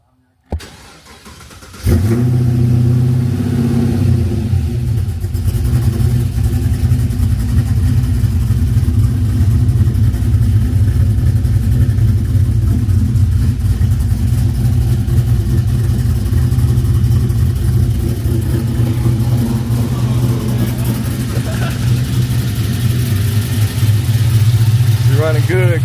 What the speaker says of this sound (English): That's how you want your LS swap to sound.